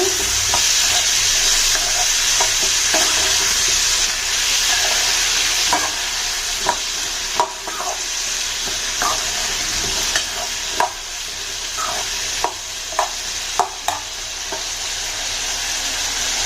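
Coriander and mint leaves sautéing in a pan for thanni chutney: a loud, constant hiss of frying with intermittent spatula taps and scrapes near the end.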